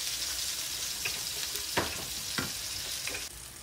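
Onions frying in a pan alongside river fish give a steady bright sizzle, with a few sharp spatters and utensil scrapes as they are turned, close and loud, with no talking.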